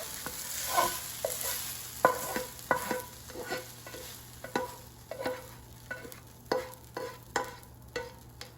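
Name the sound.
arugula sizzling in frying pan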